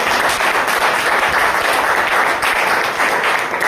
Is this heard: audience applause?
yes